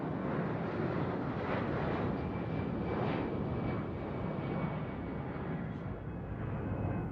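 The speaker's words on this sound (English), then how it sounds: "Today, the president travels in a larger aircraft, a modified 747." Steady, loud jet engine roar from a modified Boeing 747 presidential aircraft, a continuous broadband rumble with no breaks and no voices.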